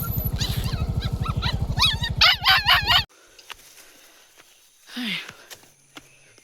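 Two dogs on a rural farm bark in a rapid, loud series of yips and barks that cut off abruptly, followed by quiet and a brief whimper or whine a couple of seconds later.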